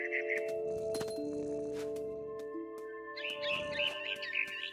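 Bird chirps in the video game What Remains of Edith Finch, with bright high tweets at the start and a busier burst of chirping near the end, heard over steady ambient game music and sustained tones.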